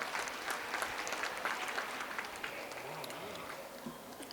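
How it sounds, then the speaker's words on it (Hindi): Audience at an international multidisciplinary conference claps to welcome a company director as guest speaker; fairly quiet, steady scattered clapping with some murmured voices underneath. "आप जोरदार तालियों से सर का स्वागत कर सकते हैं।"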